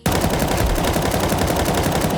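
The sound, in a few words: gunfire in the video game Counter-Strike 2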